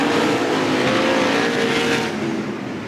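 Sprint cars of the Interstate Sprint Car Series race at Willamette Speedway in 2018: a loud, dense roar of engines at full throttle that swells and then tapers slightly as the cars pass, with no talk.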